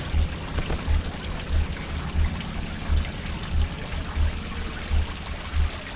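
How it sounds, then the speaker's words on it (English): Water leaks from a window in the horror game Cry of Fear, a continuous pouring trickle with soft rhythmic low thumps repeating underneath, steady and close. "There's like water leaking out of one of the windows."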